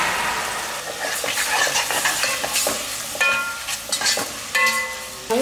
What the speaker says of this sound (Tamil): வெங்காயம் தக்காளி எல்லாமே இந்த அளவுக்கு நல்லா வதங்கிடுச்சு